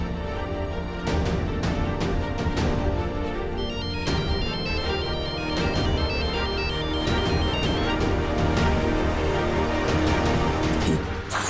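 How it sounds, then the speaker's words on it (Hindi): A phone ringtone plays continuously as a bright, looping melodic tune in a TV drama scene, loud and steady from start to finish with no talking over it. "फोन उठाओ।"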